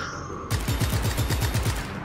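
A weapon fires in Just Cause 3 as a fast, steady burst of rapid thuds that starts abruptly and runs to the end at a close, moderate level.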